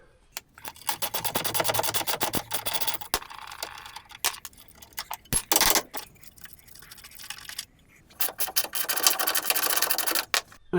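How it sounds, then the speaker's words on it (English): Bolts come undone on a crashed Nissan 350Z Z33 suspension unit, with long runs of rapid, dense tool rattling and clicking close by, interrupted by a few pauses and sharp bursts. "now we just need to undo all the bolts"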